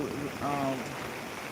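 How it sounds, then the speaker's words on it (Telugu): Heavy rain in Velichala sends rainwater rushing off a road in a steady, close wash of flowing water, with a brief tonal, voice-like sound partway through. "వాటర్ ఫ్లో అయితే పెరిగింది అంటే వర్షం ఇంకా తీవ్రత ఎక్కువైందని అయితే చెప్పచ్చు"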